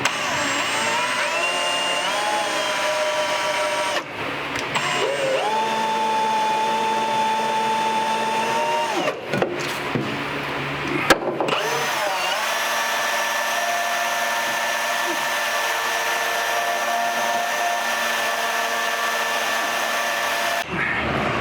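Power drill running on a hood bolt of a 1958 Chevrolet Apache Fleetside truck with a worn bit, a steady loud motor whine in several long bursts with brief stops and pitch shifts between them, no talk.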